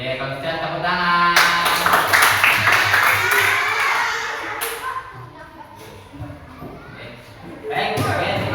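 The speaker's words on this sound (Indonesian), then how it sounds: "kalau bisa tepuk tangan" Children clapping their hands together in a classroom, a sustained burst of applause-like clatter for a few seconds that fades, with a teacher talking over and after it.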